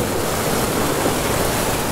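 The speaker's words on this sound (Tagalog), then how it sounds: "Lakas ng alon guys." Strong open-sea waves near high tide crash and hiss in a continuous loud wash of surf, close by with no voices.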